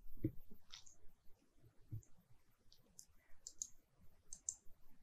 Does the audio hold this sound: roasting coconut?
no